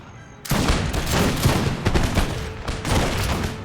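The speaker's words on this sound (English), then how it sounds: "They are being shot by the Firelock armed citizenry over here." A sudden crackling volley of musket fire from firelock-armed citizen militia in an American Revolution strategy battle, rolling shots bunched into a dense, loud barrage that stays sustained for several seconds.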